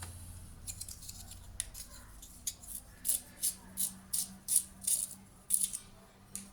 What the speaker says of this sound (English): I believe I have to sharpen my pencil a bit more, so let me do that first.